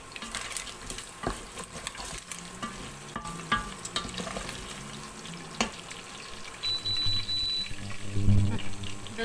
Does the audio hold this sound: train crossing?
no